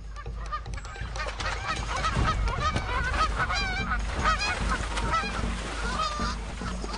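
A flock of Canada geese honks continuously, many overlapping calls rising and falling at close range over a steady outdoor rumble.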